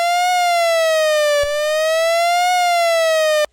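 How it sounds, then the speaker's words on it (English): A subtractive synthesizer tone, its pitch swept slowly up and down by an LFO so it wails like an old American police siren, loud and steady with a brief glitch midway before cutting off. "All of a sudden it turned into an American police car from some 80s movie."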